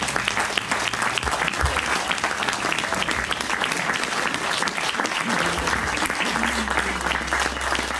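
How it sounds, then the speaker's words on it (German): A crowd's sustained, dense applause fills the hall after a political speech by Jens Spahn in Aalen, steady and loud throughout with no voices rising above it. "der Beifall zeigt dir, das war eine fulminante Rede"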